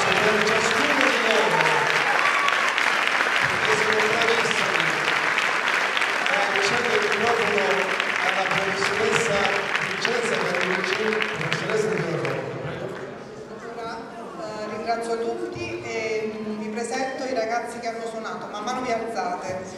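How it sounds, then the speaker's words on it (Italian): Enthusiastic crowd applause at an end-of-year school concert in Potenza, steady clapping for the performing students that thins out partway through as a voice speaks over the fading hands. "Un grandissimo applauso."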